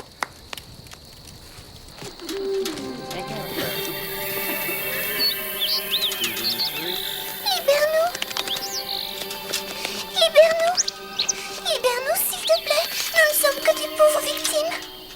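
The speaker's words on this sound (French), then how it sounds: "Ce sont des oiseaux magiques." Magic birds coo and chirp with warbling, sliding calls that grow busier and louder over a background of faint footsteps and movement.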